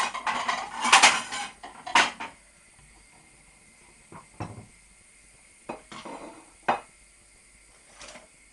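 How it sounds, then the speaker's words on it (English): A serving spoon scrapes and clinks against a dish while portioning fish pie, several sharp metallic knocks and scrapes in an irregular cluster at first, then sparser taps and clatter, close and without talking. "So I'm just going to dish one portion up just so you can see what it looks like."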